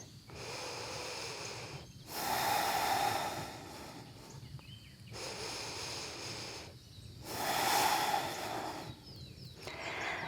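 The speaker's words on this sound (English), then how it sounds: "2 deep breaths" Slow, deep yoga breaths, loud and close, with long airy inhales and exhales that alternate in a steady rhythm, each separated by a short quiet pause.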